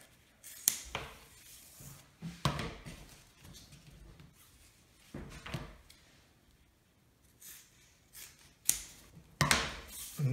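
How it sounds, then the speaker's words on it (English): Scissors snipping through layered player piano pneumatic material along marked lines on a board, sharp separate cuts in irregular bursts, close and quiet with pauses between. "Now I can just take my scissors"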